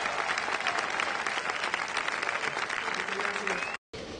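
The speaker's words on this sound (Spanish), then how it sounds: "La comunidad premió con variados aplausos a los artistas nacionales y locales" Dense, continuous applause from a community audience praising national and local singers and musicians at an evening concert, loud and sustained before cutting off briefly near the end.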